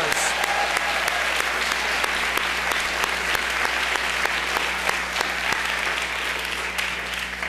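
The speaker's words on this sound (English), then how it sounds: "Let's give them a round of applause." Sustained applause from a large audience, steady dense clapping throughout without pause, loud and close.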